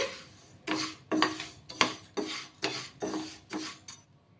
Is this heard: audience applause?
no